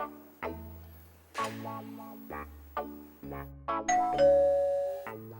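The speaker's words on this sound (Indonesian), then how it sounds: "bel bunyi itu, bukain pintu" A house doorbell chimes repeatedly, a run of clear ding-dong tones ringing out one after another, loud and close, with no talking.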